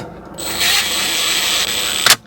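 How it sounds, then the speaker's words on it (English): A power tool drives screws into the plastic steering wheel housing of a BMW, giving a steady close whirring drill tone that runs for about a second and a half, then a short sharp burst as it stops. "to be very careful when tightening the screws with this tool, because I can easily destroy the plastic housing."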